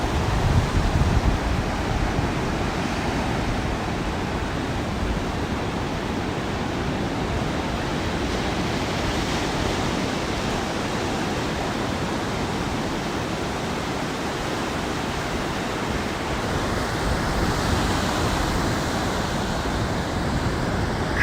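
Sea waves break steadily on a beach at sunrise, a continuous loud wash of surf and spray filling the whole clip with no pauses and no voices.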